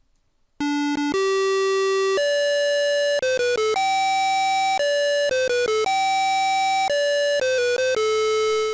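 A TI-99/4A computer's electronic tone generator plays a short melody of pure, buzzy beeps, held notes alternating with quick runs, loud and clean with nothing else present.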